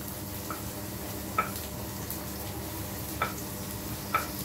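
Sliced onions sautéing with browned garlic in a pan for ginisang monggo, a steady close sizzle with a few faint ticks of a utensil, no talking.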